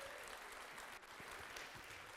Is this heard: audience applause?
yes